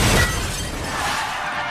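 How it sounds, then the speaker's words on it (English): Glass shatters in a film car-crash stunt, a loud bright burst of breaking glass at the start that trails into a scattered hiss of falling shards. "crashing cars"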